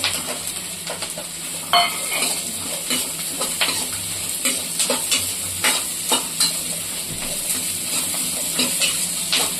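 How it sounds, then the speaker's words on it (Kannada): Radish frying with salt in a pan for chutney: a steady broadband sizzle runs throughout, with repeated scraping and stirring knocks from a utensil, fairly close, and no speech. "ಸಣ್ಣ ಮಾಡೋಕ್ಕೆ ಬಿಟ್ಮೇಲೆ ಅದಕ್ಕೆ ಉಪ್ಪು ಎಲ್ಲ ಫ್ರೈ ಆಗಲಿ"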